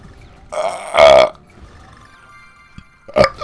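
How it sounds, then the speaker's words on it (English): Two loud, drawn-out burps from a person, the first around the one-second mark and a shorter one near the end, close to the mic with quiet gaps between. "I don't force my burps off."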